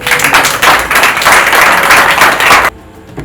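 An audience at a networking event applauds loudly and continuously, then the clapping cuts off abruptly into quieter music.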